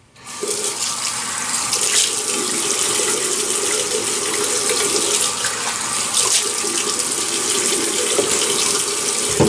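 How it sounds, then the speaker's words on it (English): Tap water gushes steadily into a sink as a man wets his face before shaving, a close, continuous splashing hiss that starts abruptly and runs on without talk. "So let me wet the face."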